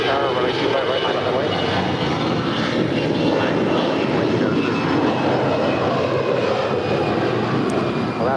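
An Alaska Airlines A320 jet roars steadily down runway 25 right at LAX on takeoff, loud and continuous throughout, with faint voices in the background.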